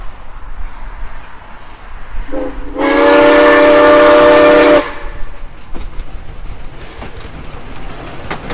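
A loud whistle from a steam locomotive on a cockle train service at Port Elliot sounds once for about two seconds, rising in pitch at the start, over a low rumbling background.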